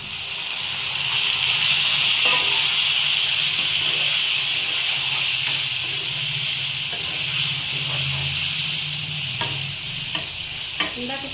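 Chopped tomatoes hit hot oil in a pan for drumstick tomato curry and sizzle loudly and steadily close by, with an even hiss and occasional soft stirring scrapes and pops.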